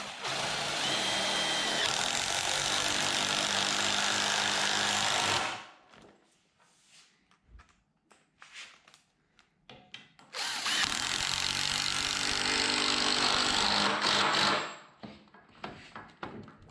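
Power drill driving screws to fix pull-up bar brackets in place, two loud sustained bursts of whirring separated by a few seconds of quieter handling clatter.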